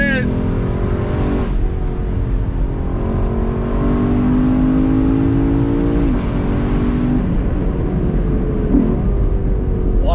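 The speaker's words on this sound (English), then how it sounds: "nothing better than a naturally aspirated V8" A 2021 Lexus LC500 convertible with a naturally aspirated V8 revs and pulls through several gears in steady, loud passes, its engine note climbing and dropping with each shift over constant road and wind noise.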